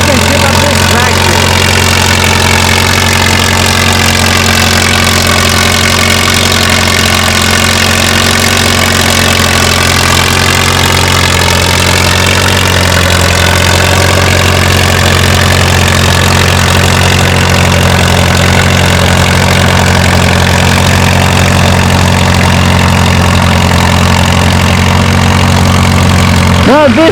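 An antique Ford tractor engine runs steadily at a low, throbbing idle through a long stretch at an old-time plow day, loud and near, with talk over it.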